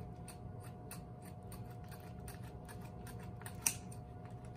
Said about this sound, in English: Snipping.